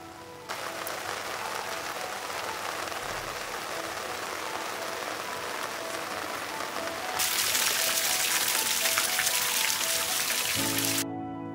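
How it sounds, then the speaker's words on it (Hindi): Steady rain pours down in a mountain setting, a dense even hiss throughout that swells louder and brighter partway through before cutting off near the end; no voices. "बारिश की ये आवाज़ दिमाग को स्थिर कर देती है।"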